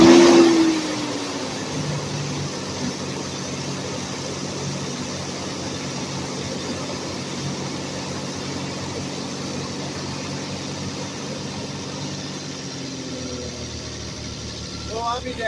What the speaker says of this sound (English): I guess we'll start it up and see if that high idle is gone.